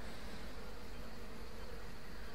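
A swarm of bees in the video game Trine 2 drones with a steady, unbroken buzz, low in volume and heard alone.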